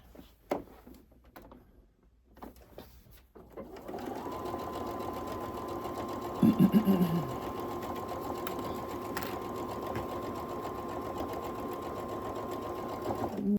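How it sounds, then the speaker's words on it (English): A sewing machine stitches along the fabric edge with a steady, close mechanical whirr that starts after a few quiet handling sounds and keeps running, with a brief rattling flutter partway through. "Just sew as close to the edge as you can."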